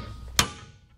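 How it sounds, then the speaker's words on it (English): A single sharp, loud hammer blow close by, striking a straight punch set against the swivel tilt mechanism of a Chromcraft chair, then ringing off quickly into quiet. "just use a straight punch and a pretty good size hammer"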